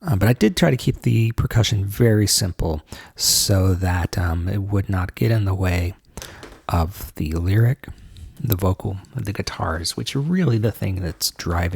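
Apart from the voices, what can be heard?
None of the usual background noises is heard.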